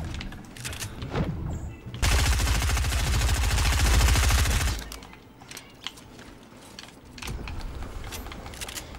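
Rapid automatic gunfire in the Fortnite Battle Royale video game, a dense burst of nearly three seconds, with scattered single shots and game noises before and after.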